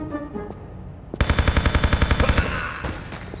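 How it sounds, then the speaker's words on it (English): Rapid-fire HK rifle bursting in the video game Tomb Raider Chronicles: after a quiet stretch, a loud, dense automatic volley of about fifteen evenly spaced shots over roughly a second and a half, then fading. "I'm going to waste him with my rapid fire"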